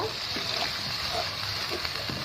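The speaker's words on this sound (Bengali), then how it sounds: "এরপর আমি পানি দিয়ে দিব" Water poured into ginger, garlic, mustard paste and onion frying in a pan for a koi fish mustard curry gives a steady splashing hiss that runs unbroken and fairly loud throughout.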